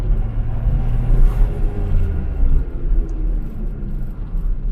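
Turbocharged Toyota Starlet driving with a steady, loud low engine drone and road rumble, swelling slightly as it accelerates, with no voices over it.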